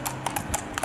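Horses and donkeys in Egypt clip-clop along on hooves, a quick run of several sharp, close hoof strikes in irregular rhythm over a brief moment.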